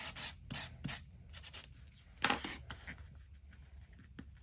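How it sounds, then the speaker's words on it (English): Sandpaper rubs across a vintage passport for a junk journal, quiet scratchy strokes in a loose rhythm, with a few quick rubs early and a stronger pass midway. "just give it a good old sand"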